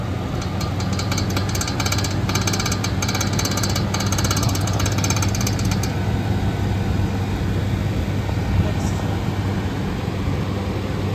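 An air conditioner compressor starting up on low cool drones loudly and steadily up close, a constant mechanical hum with rattling vibration that continues without a break.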